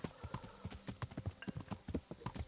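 Horse hooves gallop in the video game Kingdom Come: Deliverance, a fast rapid clip-clop of repeated impacts, faint and steady with no pauses.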